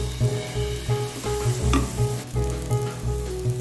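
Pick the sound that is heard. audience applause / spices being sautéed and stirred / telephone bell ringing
spices being sautéed and stirred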